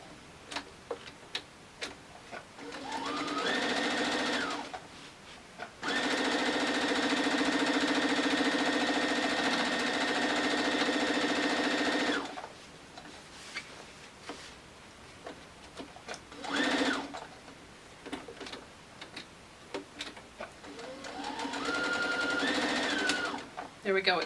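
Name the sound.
sewing machine sewing fabric grocery bag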